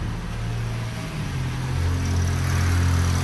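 A new Perodua Myvi sits in Drive with a slipping gearbox clutch, its engine droning steadily with a low humming whir that climbs slightly in pitch, close and continuous.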